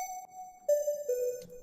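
A Proverb reverb loaded in Phase Plant's Snap Heap colours a few sustained synth notes, each held tone stepping lower with a soft, airy tail, short and clean with no voices.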